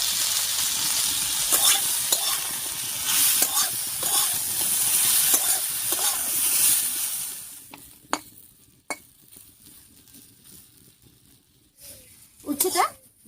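Bitter gourd pieces fry in hot oil with salt and turmeric, a steady sizzle with repeated spatula scrapes and stirs; the sizzle fades partway, leaving quieter sparse scrapes and a final clatter.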